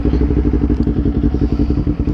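Kawasaki Ninja Z400 motorcycle engine running close by with a quick, even, throbbing pulse, loud and steady, with no other sounds over it.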